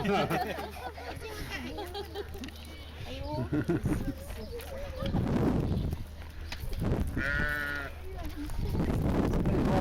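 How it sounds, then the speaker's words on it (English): Lambs on a farm bleat several times, some nearby and some further off, with people talking over and between the calls. "Over here with the lambs, so you can feed them as well if you like."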